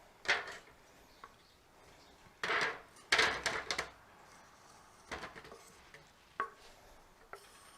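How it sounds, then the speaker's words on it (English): Chuck roast pieces dumped into a full pan: several separate clattering thuds and scrapes of meat and utensil against the pan, spaced out over a quiet background. "Let's go ahead and just dump these right in."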